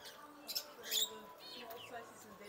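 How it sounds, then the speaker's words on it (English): Lovebirds, southwest parakeets at an aviary in Goanikontes, giving thin high chirps and short tweets at moderate distance, a few brighter calls standing out over a quiet background. "And the southwest parakeets, the lovebirds, as we call them."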